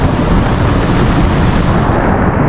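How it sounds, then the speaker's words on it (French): Thunder from a nearby lightning strike, heard from a boat at anchor in the Bay of Villefranche, rolls as a loud, dense rumble that fills the whole clip without a break. "On se prend la foudre, pas loin."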